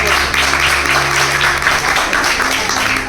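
A church congregation at a healing and deliverance service in Haryana applauds steadily for about three seconds, a dense, even patter of clapping that fills the room.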